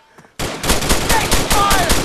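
Rapid automatic gunfire in the military shooter ARMA 3, following a brief quiet moment, then loud sustained bursts of shots crackling close by in a dense, continuous stream.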